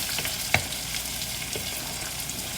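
Cashews fry in a pan for upma, giving a steady close sizzle with light crackles and one sharp stirring clink near the start, and no one speaking.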